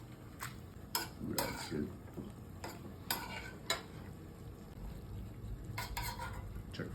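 Calamarata pasta with squid, saffron and tomato is tossed in a pan, giving a few sharp clanks and scrapes of pan and utensil over a soft sizzle, with a brief spoken remark.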